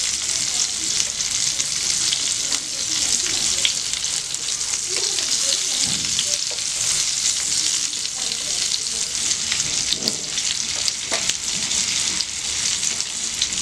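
Cauliflower chicken patties shallow-fry in a pan until golden brown on both sides, producing a dense, even sizzle that hisses without pause, close and fairly loud.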